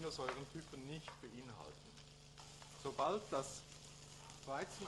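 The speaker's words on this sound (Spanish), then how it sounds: "podemos ir añadiendo la cebolla y también los pimientos en tiras y los vamos friendo todos juntos" Gluten pieces sizzle and fry in a pan with onion and strips of pepper, a steady crackle stirred now and then, under a person talking.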